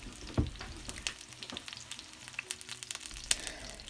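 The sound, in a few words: ginger and garlic frying and popping in pan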